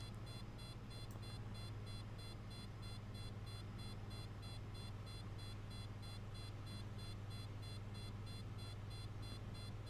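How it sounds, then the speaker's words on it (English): Steady repeating warning beep inside a Piper Arrow Turbo cockpit in Microsoft Flight Simulator 2020, pulsing evenly and continuously over a loud, constant engine drone. "It's always gonna beep, no matter what. It's just a warning thing."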